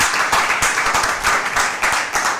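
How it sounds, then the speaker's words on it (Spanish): Church congregation applauding during a Spanish-language service, a dense continuous wash of many hands clapping in a hall, loud and sustained with no speech over it. "Si usted le aplaudió al Señor Jesucristo,"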